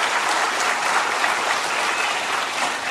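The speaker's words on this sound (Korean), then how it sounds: "우리 아동부 성가대에 위해서 여러분 정말 뜨겁게 큰 박수로 격려해 주시기를 바랍니다" A church congregation claps warmly for a children's choir, a dense, loud, continuous wash of applause from many hands with no voices over it.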